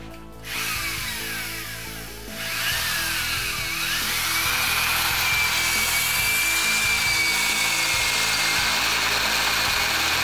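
A hole saw cuts a 35 degree notch into metal tubing, a loud powered drill whine rising after brief starts and settling into a sustained grinding cut with high squealing tones, close and continuous.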